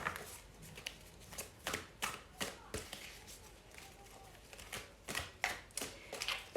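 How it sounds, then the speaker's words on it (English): Tarot cards being shuffled in a steady run of crisp riffling bursts, repeating roughly every half second, close up with no talking. "I'm going to start to shuffle and see."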